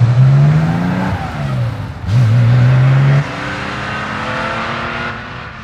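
A 1976 Porsche 911 Carrera 2.7 MFI ex-Belgian gendarmerie car revving hard, its pitch climbing and falling through a few shifts before settling into a steadier drone as it pulls away, loud and close.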